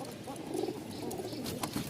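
Soft, low cooing of Rajshahi Giribaz pigeons, several overlapping murmurs close by, with faint background rustle.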